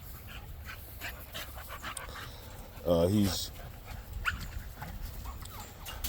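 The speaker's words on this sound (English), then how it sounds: "he looks like a heck of a guard dog, and he'll make a lot of noise like that" A large American Bully dog named King Creed pants steadily near the microphone and lets out a short whining, vocal burst midway, while someone talks over the breathing.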